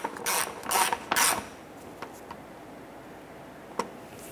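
Close, rapid clicking of a ratchet tightening bolts on the front upper subframe crossmember of a 2006-2013 Chevrolet Impala, in three quick bursts followed by a few faint isolated ticks.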